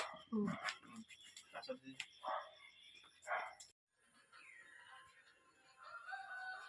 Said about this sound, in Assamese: এতিয়া পূৰা ভুকিছে